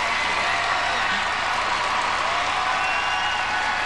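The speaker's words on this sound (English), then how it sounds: "Belbin and Augusto standing and applauding as well." Arena crowd at the 2006 figure skating nationals applauding after a free dance, a loud, unbroken roar of massed clapping and cheering that fills the whole stretch without letting up.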